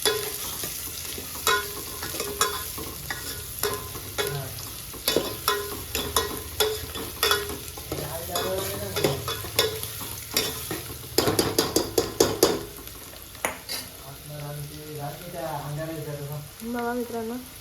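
Onion sizzling in a pan in a village kitchen while being stirred and sautéed, with steady frying crackle and repeated scraping strokes of a spoon against the pan, and a voice speaking at times over it.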